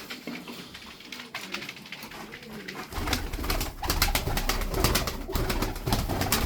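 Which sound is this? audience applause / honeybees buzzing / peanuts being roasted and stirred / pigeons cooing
pigeons cooing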